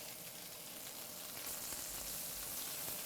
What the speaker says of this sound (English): Oh yeah, that's searing up really nice already.